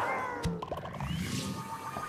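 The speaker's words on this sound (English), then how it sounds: "Polter Kitty, you naughty kitty." The Polter Kitty ghost cat in Luigi's Mansion 3 lets out a meow over busy game music and effects, a short, moderately loud cry amid other sounds.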